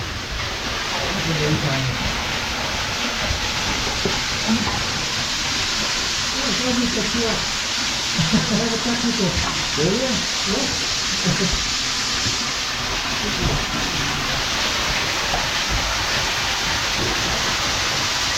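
Steady rushing water in an abandoned underground mine in Derbyshire fills the space with a broad hiss, continuous and fairly loud, with faint scattered knocks and movement underneath.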